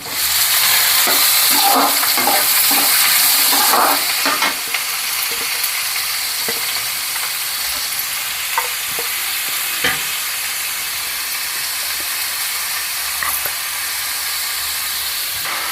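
Loud sizzling of chopped onions frying in hot oil, with bursts of stirring at first, then a steady hiss that continues on its own.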